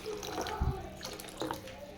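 Water splashes and trickles as it is poured into sambar in a home kitchen, fairly quiet and close, with a brief louder splash early on.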